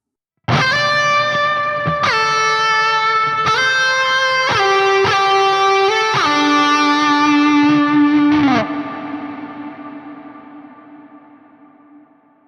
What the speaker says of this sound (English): we're going to get extremely long, drawn-out ambient reverb sounds